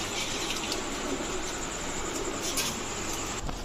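Royal Teddy pigeons coo softly amid a constant broadband background hiss, with a few brief calls standing out over the steady noise.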